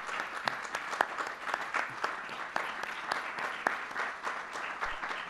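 A church congregation applauds during a Sunday service, a steady spread of many hands clapping with sharp individual claps standing out, fairly distant and with no talking over it.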